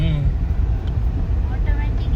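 An automatic car drives along on the way to a farm, its steady low road and engine rumble filling the short stretch, with a voice talking over it.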